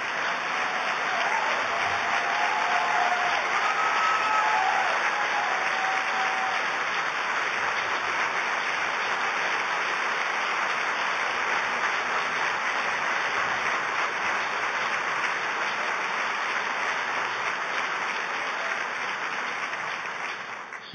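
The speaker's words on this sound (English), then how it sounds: "So you applaud for Ramey, but you're also applauding for those compassionate souls at The Next Door." An audience at a George W. Bush presidential event gives sustained, even applause for about twenty seconds, a dense steady clapping that tapers off at the very end.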